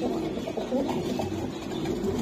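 Giribaz high-flying pigeons coo softly at a seller's loft in a continuous low, warbling murmur with overlapping calls and faint background noise.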